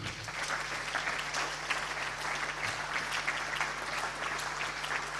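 Steady applause fills a large hall at a regional Paralympic sports gala, dense and continuous as an athlete is welcomed onstage.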